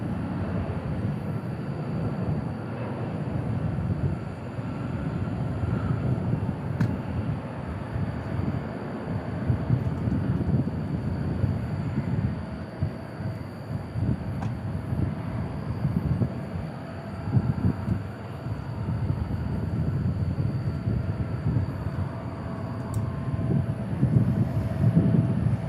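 An Embraer E175 jet airliner at DFW International Airport, a sustained loud engine roar and rumble that swells slightly toward the end, outdoors with no voices.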